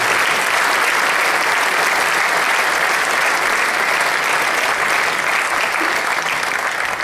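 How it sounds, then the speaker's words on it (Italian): Steady, dense audience applause at an international opera singing competition, sustained and even throughout with no talk over it. "un grandissimo applauso e un ringraziamento per quello che ci ha lasciato."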